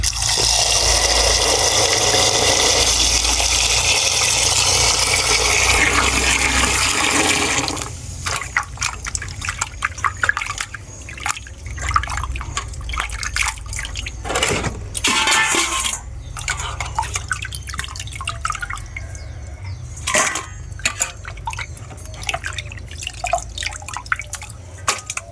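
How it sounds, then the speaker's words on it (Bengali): About one kilogram of raw chicken is washed with water in a bowl in an outdoor village kitchen: a loud steady pour of water at first, then irregular splashing, dripping and sloshing as the pieces are rinsed by hand. "এখন আমি চিকেনটা ধুয়ে নেব।"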